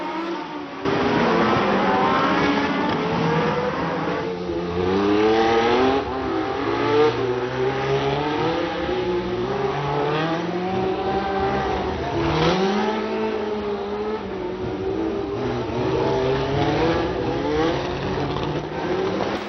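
Formula 1 race cars from 1975 scream around the Monaco Grand Prix street circuit, engines rising and falling in pitch through gear changes as they pass, loud and continuous in a lo-fi broadcast recording without any voices.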